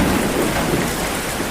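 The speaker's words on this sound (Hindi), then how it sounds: "फिर थोड़ी देर बाद बारिश बहुत तेज होनी शुरू हो जाती है" Heavy rain pours down with thunder rumbling through it, a loud, dense, unbroken roar of rainfall with no voices.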